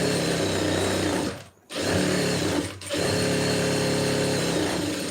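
An electric sewing machine stitches a blouse lining, giving a loud, steady rapid motor whir with a clatter of needle strokes, breaking off briefly twice before running on continuously.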